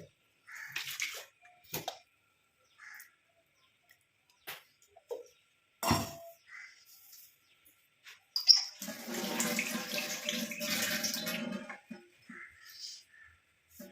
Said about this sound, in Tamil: இதில் வந்து கொஞ்சமாக தண்ணி விட்டுட்டு நான் வந்து இதை அலம்பிட்டு உள்ளே ஊற்றிக்கிறேன்